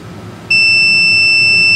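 A Yamaha 15 HP two-stroke outboard's kill switch gives off a steady, high electronic beep. It starts abruptly and holds continuously at close range over a low background hum.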